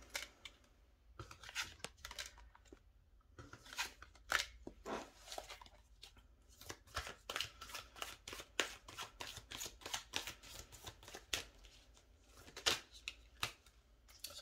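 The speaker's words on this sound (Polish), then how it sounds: "Tasuję karty" Tarot cards shuffled by hand up close, producing a long run of quick, crisp rustling and riffling bursts in an irregular rhythm, fairly quiet, with no talking.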